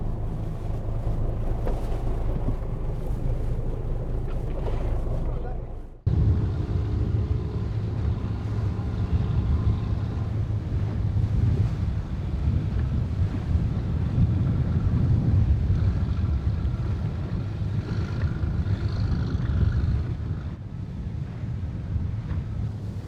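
A research boat out at sea for finless porpoise study runs through wind, giving a continuous loud rumble of engine, water and wind buffeting on the microphone, with a brief dip partway through.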